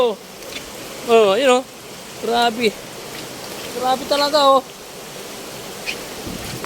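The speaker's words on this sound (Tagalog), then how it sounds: "Grabe agos ng ilog. Kahit umaulan na yan" Heavy rain and a fast-flowing flooded river make a steady wash of broadband noise, with people talking excitedly over it in short bursts.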